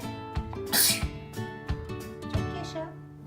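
Indoors, during a family session sticking picture magnets on a fridge, someone gives a single sharp sneeze. It stands out over steady background music with a toy-like rhythmic beat.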